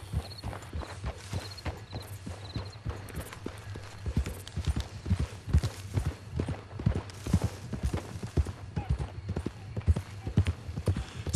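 Hooves of a horse from Red Dead Redemption 2 clip-clop through a camp at a steady walking rhythm. The hoofbeats are distinct and close, growing slightly firmer, over a low ambient hum.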